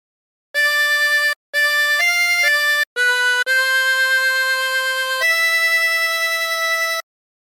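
A phrase of Silent Night played on a 16-hole tremolo harmonica, loud clean reedy notes held one after another with short gaps, slow and steady, alone with no talking.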